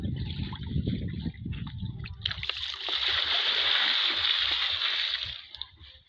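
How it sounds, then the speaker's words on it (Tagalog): Water gushing and overflowing from a large full bucket used for mixing fertilizer for bitter gourd, a steady loud splashing pour that builds after speech-like sounds early on, then tapers off near the end. "Umawas na pala yung tubig."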